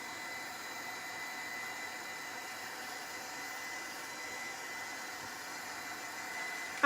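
A hair dryer or heat tool runs steadily to dry paint on an old camera craft makeover, a constant, fairly quiet airy whir with no pauses or voices.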